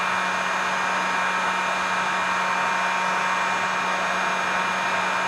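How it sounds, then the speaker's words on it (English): Heat gun blowing steadily on a painted fishing jig, a loud, continuous close-up airy roar with a constant hum, no pauses across the whole stretch. "Need one more blast of heat."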